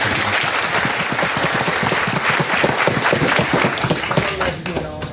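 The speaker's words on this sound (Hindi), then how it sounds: "एक बार जोरदार ताली।" Loud, dense applause from a crowd gathered at a Jan Suraaj meeting with Prashant Kishor and satyagraha volunteers, sustained steadily for several seconds before tapering at the end.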